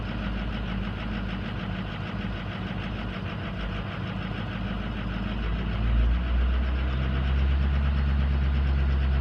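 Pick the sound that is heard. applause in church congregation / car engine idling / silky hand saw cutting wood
car engine idling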